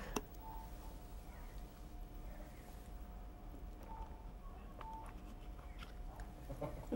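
A phone is dialed in a quiet room: short, faint tone beeps sound at irregular intervals over a low background hum, with no voices.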